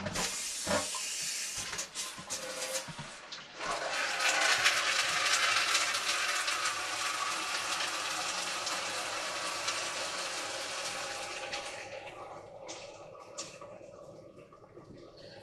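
Water boils inside a Mophorn countertop water distiller, giving a sustained broadband steam hiss with bubbling. A few clicks and knocks come first, then the hiss swells and stays steady before fading toward the end.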